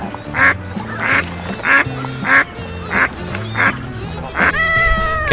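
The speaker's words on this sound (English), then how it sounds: "duck," A duck quacks repeatedly in an even rhythm, about eight loud, nasal calls close to the listener, over steady backing music.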